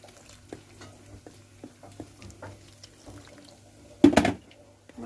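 A flour and water batter for fried calamari is stirred in a bowl, with soft, irregular wet clicks and swishes, then a louder splashy burst near the end before quieting again.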